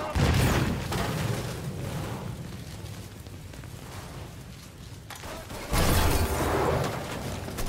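A grenade blast from the Mafia 3 video game, a loud, broad rumbling boom that swells at the start, settles into a sustained roar, then bursts again near the end, with a player's voice faintly in the mix.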